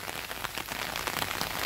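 Downpour drumming on a garden in Brazil's Northeast, a thick unbroken wash of close raindrops on plants and soil, even in loudness from start to finish, without any speech.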